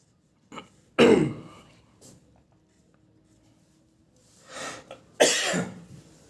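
A few harsh coughs, one near the start and a louder pair later, with quieter throat sounds and breaths between them.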